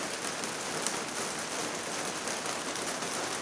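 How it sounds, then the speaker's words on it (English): Steady rain falls outside, an even, dense hiss of drops on surfaces that continues unbroken and fairly close, with no talking. "This is actual rain, totally unforecast, and it's now been going on probably 3 hours now"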